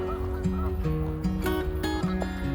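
Canada geese honk repeatedly in a loose, overlapping series, several birds calling close by over steady background noise.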